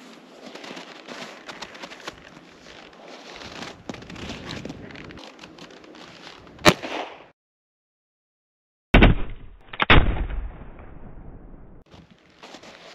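A single sharp gunshot recorded on a camera phone set on a tripod, a loud impulsive crack around mid-clip followed by a short gap and then more bursts of handling noise and rustle.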